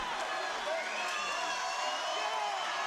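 A wrestling crowd in an arena roars and cheers steadily, a continuous dense wash of noise with a commentator's voice talking over it.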